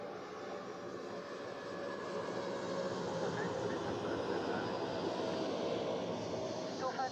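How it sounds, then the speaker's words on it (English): An Airbus A320 landing at Zurich Airport, a steady broadband engine roar that swells slightly and holds, heard from a distance, with a voice speaking faintly underneath. "next landing, A320"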